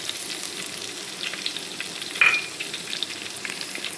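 Onion sizzles quietly in a pan for a Mangalore-style egg curry, a soft continuous crackle with a brief sharper hiss midway as it is stirred.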